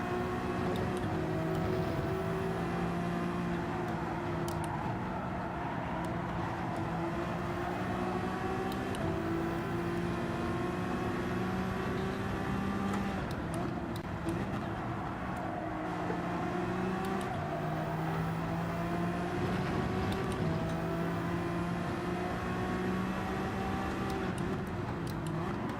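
Racing cars in Gran Turismo, a sustained loud engine drone with rising and falling revs as gears shift, steady throughout.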